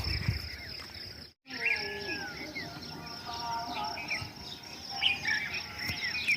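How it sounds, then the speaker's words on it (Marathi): Sparrows chirp and tweet in quick, scattered calls over a steady cricket trill in a village morning, with a brief dropout early on. "चिमण्यांचा चिवचिवाट"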